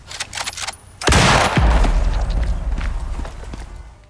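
Gunfire in the survival video game Icarus: one loud, sudden burst of shots with a heavy boom and a rumbling tail, followed by scattered fainter crackles and game ambience.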